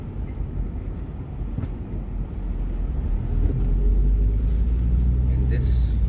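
A car drives through city streets in traffic at about 30 miles per hour, giving a steady, close low engine and road rumble that swells slightly louder partway through.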